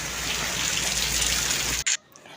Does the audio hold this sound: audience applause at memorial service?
no